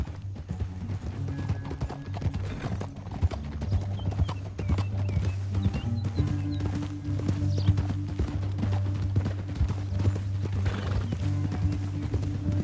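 Horse hooves clip-clop in a rhythmic gait in Red Dead Redemption 2, steady and close over a low rumbling game soundtrack, with an occasional whinny.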